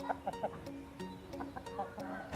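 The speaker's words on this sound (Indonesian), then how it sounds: "Ini ayamnya" A recovering chicken clucks in short, quiet bursts, several soft clucks in an uneven rhythm close by, with no talk.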